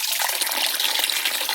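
Fresh rainwater runs steadily from the tap of a water butt fed by a garden downpipe, a close, continuous hissing gush with no talk over it.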